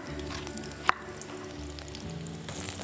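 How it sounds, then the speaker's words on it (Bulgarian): Coarsely chopped red onion pieces sizzle gently in a pan as they soften, a soft steady frying hiss throughout with one sharp utensil click near the start and no speech. "Имаме червен лук, който нарязваме на по-едри парчета и го слагаме да се задуши."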